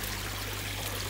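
An air pump feeds an air stone in a koi pond, giving a constant, even bubbling and trickling of water with a low steady hum beneath, close and unbroken.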